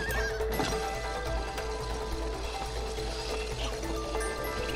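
A horse in a video game neighs with a loud whinny near the start, followed by clip-clopping hooves and a watery trickle in the game's background.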